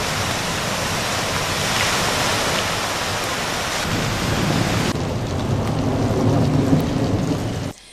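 Heavy night downpour in Osmaniye, loud and steady, rain pounding on surfaces throughout, with deep rumbles of thunder rolling beneath the hiss and a fuller roar of water in the last few seconds.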